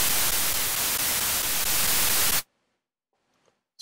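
A synthesizer noise waveform plays as a loud, steady hiss of broadband white noise for a couple of seconds, then cuts off sharply into near silence.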